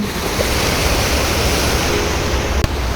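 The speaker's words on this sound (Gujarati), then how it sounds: "અને આ નદી છે." A river near Anjani waterfall in the Saputara hills rushes steadily, a dense, loud, unbroken wash of flowing water with one brief click near the end.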